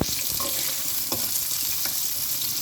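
Onions sautéing in a pan for chicken biryani give a loud, steady, close sizzle, with a few soft stirring scrapes now and then under the continuous hiss.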